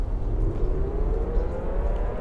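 A siren wails faintly through a muffled low rumble, a slowly rising tone held steady under heavy background noise.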